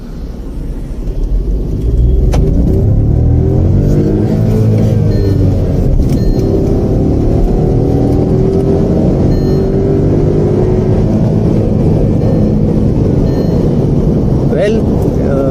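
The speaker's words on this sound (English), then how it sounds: "Car crosses 100 km/h in the second gear." A Volkswagen Taigun 1.0 TSI petrol SUV engine revs and pulls hard, rising in pitch as it accelerates through second gear past 100 km/h, loud and steady with road rumble underneath.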